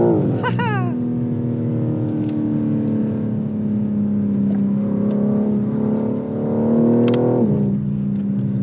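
A BMW M3 Touring engine revs up and holds a steady drone as it accelerates on an icy road, loud and close, with a brief dip before rising again.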